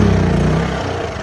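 A Powersmart 2500 gas generator engine runs loud and close with a steady low humming drone that settles slightly as it continues, no speech over it.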